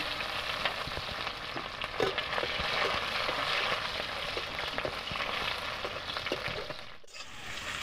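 Onion and cumin seeds with bay leaf sizzle steadily in hot oil in a pan, a dense continuous frying hiss with scattered stirring clicks, close and fairly loud, no voices, briefly dipping near the end.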